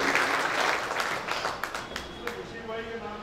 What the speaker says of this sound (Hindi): मैं चाहता हूँ कि इन दोनों हज़रात के लिए एक बार तालियां बजाएं